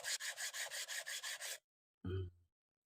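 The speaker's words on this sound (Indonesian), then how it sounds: "Ini saya mau amplas dulu sobat ya." Rhythmic rasping strokes of sandpaper rubbing on a surface, about a dozen quick even passes close up, then a pause and one more short scrape.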